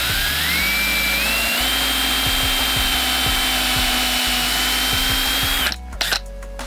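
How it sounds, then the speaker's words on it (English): A power drill with a bit pre-drills the center hole of a part for a DIY wall-mounted mic stand. It gives a loud, steady whine that climbs in pitch as the motor spins up, then cuts off near the end, leaving handling clatter. "I'm gonna get a drill bit and just pre-drill the center of it."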